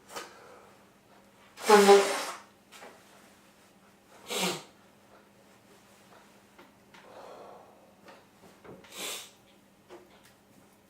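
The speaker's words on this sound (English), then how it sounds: "thought I could sneeze there." A single loud sneeze, followed by a couple of fainter breathy snorts and small noises in a quiet room.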